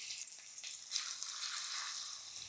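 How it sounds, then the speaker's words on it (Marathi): Marinated prawns hit hot oil in a thin wok, giving a soft, steady hiss of sizzling that swells after a second and keeps crackling, with no talk. "तेल गरम झालंय. आता यामध्ये आपण घालूया मुरवलेली कोळंबी."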